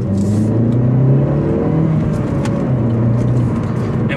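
A 2017 Opel Corsa OPC hot hatch with a 207 hp engine accelerates on a highway, its engine note droning steadily from inside the cabin with road and wind noise.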